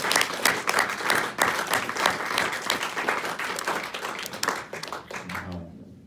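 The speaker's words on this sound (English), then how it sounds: "Give these stars a huge round of applause." Audience at a stage hypnosis show giving a big round of applause for the volunteers, dense steady clapping from a crowd that fades out at the end.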